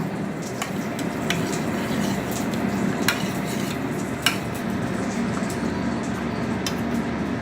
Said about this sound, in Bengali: এবার এই সর্ষের সাথে আমি সামান্য হলুদ দিয়ে তার সঙ্গে জল দিয়ে এটাকে ভালো করে গুলে নেব